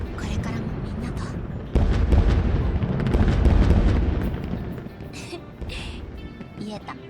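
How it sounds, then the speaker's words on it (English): Fireworks go off in the Like a Dragon: Infinite Wealth video game as a loud run of booming bursts, with dialogue heard over the blasts and a few fainter pops fading out afterward. "Why are fireworks going off?"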